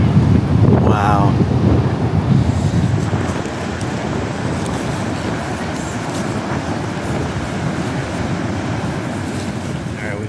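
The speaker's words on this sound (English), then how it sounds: "It is super windy though." Strong wind at Cape Kiwanda beach in Oregon buffets the microphone with a continuous loud roar and rumble, heaviest in the first few seconds, steady and close throughout.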